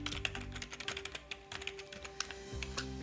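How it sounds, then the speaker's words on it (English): A password is typed on a computer keyboard as rapid, close, crisp key clicks in uneven bursts, alone over a faint steady hum. "So I'm going to type that 2 times"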